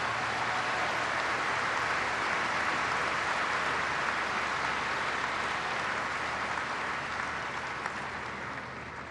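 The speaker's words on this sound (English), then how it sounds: "Let's give Fergus a round of applause." Sustained audience applause at the Brisbane International tennis trophy ceremony, a dense, even wash of clapping from a large crowd that fades slightly toward the end, with no voices.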